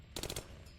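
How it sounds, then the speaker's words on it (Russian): A short burst of automatic rifle fire from the video game Another War, about four quick, loud rounds in rapid succession, with no voices. "Автомат."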